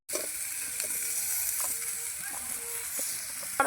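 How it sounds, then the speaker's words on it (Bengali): Potatoes fry in hot oil in a home kitchen, giving a steady, close sizzle that runs throughout with a few light clicks and stirring taps. "আলুটা ভেজে নেবো একটু লাল লাল করে"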